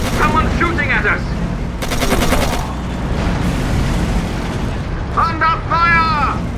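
Gunfire and booming blasts in the World War II strategy game Codename: Panzers, loud and continuous, with bursts of automatic fire mixed under shouted soldier voices.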